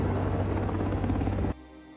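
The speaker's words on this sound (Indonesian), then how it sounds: "Hari itu, Emily dijemput dengan helikopter milik Sandra." A helicopter roars loudly and steadily with a deep rotor throb for about a second and a half, then cuts off abruptly to a faint low hum.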